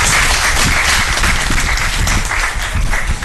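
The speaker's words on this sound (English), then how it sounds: "A big applause to them once again" Dense, steady applause from an audience at a medical workshop, many hands clapping close and loud throughout with no pauses, a faint voice or two mixed in.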